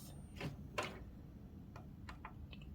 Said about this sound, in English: my printer is actually printing as we speak. I'm sure you guys can hear the noise